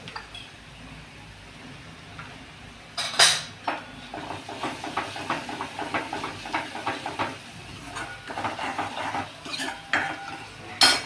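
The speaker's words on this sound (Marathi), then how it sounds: "आता हे वाटण छानपैकी फ्राय करून घेऊया." Ground masala paste fries in a pan for a vada rasa curry, with a soft sizzle underneath and repeated scraping clinks of a spoon stirring against the metal, close and irregular, without talk.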